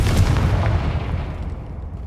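A Confringo blasting spell detonating in Hogwarts Legacy, a loud, deep booming burst that rumbles from the start and slowly decays over about two seconds, standing alone without speech.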